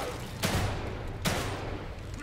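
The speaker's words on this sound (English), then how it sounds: "Yep, you should probably start shooting." Two sharp gunshots ring out in the video game The Evil Within 2, spaced under a second apart, each a loud crack over a low murmur of game ambience.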